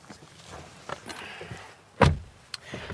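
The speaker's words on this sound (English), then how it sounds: "access through these wide frameless doors" The wide rear frameless door of a Mercedes-AMG GT63 is opened, giving soft mechanical clicks and a firm latch thunk near the microphone, with light handling noises around it.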